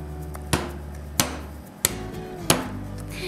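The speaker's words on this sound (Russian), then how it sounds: "Теперь накрываем их пленкой и отбиваем молоточком для того, чтобы выровнять толщину филе." A meat mallet pounds chicken fillet slices covered in cling film, four dull, evenly spaced thuds close by on a kitchen board.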